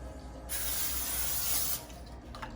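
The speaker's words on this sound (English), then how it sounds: "we'll spray just a little bit more cooking spray on top of them" A single hissing burst of cooking spray over zucchini pizza bites on a sheet lasts just over a second, close and steady, with quiet surroundings before and after.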